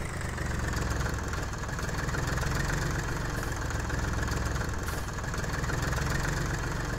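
A Zetor HMT 2511 mini tractor engine in Farming Simulator 18 runs at a steady, even drone, unbroken and alone throughout.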